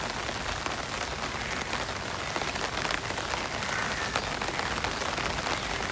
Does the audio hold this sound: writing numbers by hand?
no